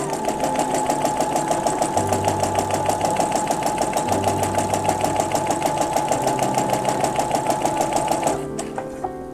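Sewing machine running steadily while stitching a seam, a fast even needle rhythm with a constant motor whine for about eight seconds before stopping abruptly, near and loud, no talking.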